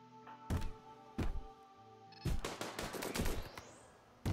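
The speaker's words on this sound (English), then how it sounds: "Shoot the shit out of them." Bursts of gunfire from the RimWorld video game, several sharp loud shots spaced apart and then a rapid cluster of firing, with a low hum of game sound beneath and no talk.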